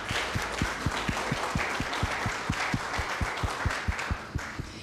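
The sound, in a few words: audience applause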